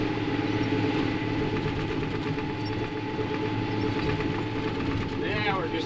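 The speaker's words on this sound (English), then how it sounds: "we'll rev it up a little bit here. Got about 600 pounds to trickle out." A mixer wagon engine revs steadily while unloading about 600 pounds of cattle feed, a loud continuous rumble with a constant hum running throughout, and a brief squeal of machinery near the end.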